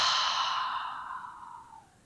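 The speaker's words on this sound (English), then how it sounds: "Open your mouth and exhale." A single long open-mouthed exhale during a gentle chair yoga breathing exercise, a soft breathy whoosh that starts strong and gradually fades over about two seconds, close and alone with no talking.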